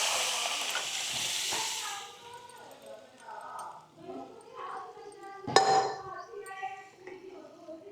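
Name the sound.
cooked vegetables sizzling in spiced tadka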